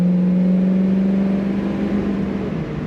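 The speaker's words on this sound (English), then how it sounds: "Very good acceleration from this Mustang." A 1965 Ford Mustang convertible in very good condition accelerates on the highway, a loud steady engine drone with a rising tone heard from inside the car, no talk.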